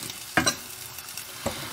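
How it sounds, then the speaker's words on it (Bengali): Bell peppers fry in a pan with a soft background sizzle, broken by a couple of sharp stirring scrapes. "আমার বেল পেপারগুলো ভাজা ভাজা হয়েই গেছে অলমোস্ট"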